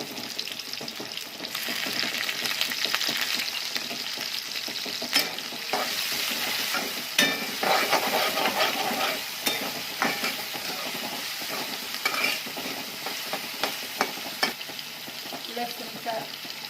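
Chopped onion and green chilli fry in a pan for dill-leaf bhaji, a dense steady sizzle close by, broken by repeated scraping and clacking stirs of a spatula.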